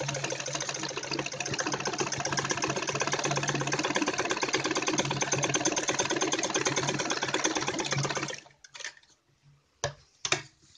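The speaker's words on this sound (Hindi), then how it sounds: "अब मैं इस पे सिलाई लगाऊंगी ऐसे" An electric sewing machine stitches a kurti neckline in a steady, fast, even rhythm for about eight seconds, close and clear, then stops with a few brief short runs.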